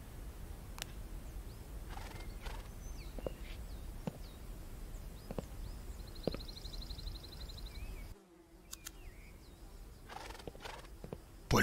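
A horse neighs several times in a stable in the Alfred Hitchcock Vertigo video game, with hoof clops and birdsong around it and a brief dropout near the end.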